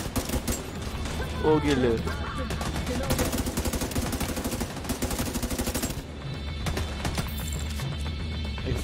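Rapid bursts of gunfire from The Division 2 video game, dense and continuous through most of the stretch with a brief lull near the end, under excited talk from players.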